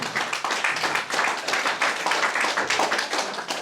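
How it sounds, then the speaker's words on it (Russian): Guests at a wedding reception in a cafe clap steadily, a dense, close round of applause with no talking. "Аплодисменты, дорогие дамы и господа."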